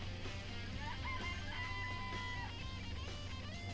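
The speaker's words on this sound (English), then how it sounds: "I remember there were some chickens in the chicken coop." Video game chickens in a coop in Danganronpa: Trigger Happy Havoc cluck and warble in a busy, overlapping chorus, steady and fairly close, with a low background hum.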